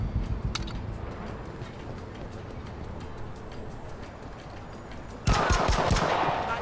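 Rapid bursts of automatic gunfire in the video game Narcos: Rise of the Cartels, a steady rattling stream of shots that swells into a louder, denser volley near the end.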